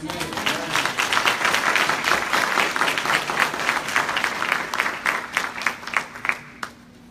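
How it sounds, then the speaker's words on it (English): Congregation applause fills a church service, a dense sustained wash of clapping from many hands with some voices mixed in, tapering off near the end into quiet. "So let's give them a round of applause."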